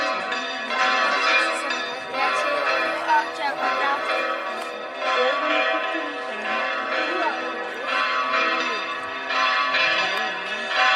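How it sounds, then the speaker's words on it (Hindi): Church bells ringing near the Alcazaba fort in Granada, Spain, a dense sustained peal of overlapping strikes and ringing tones, steady and moderately loud throughout. "इस तरफ किसी चर्च में घंटियां बज रही हैं।"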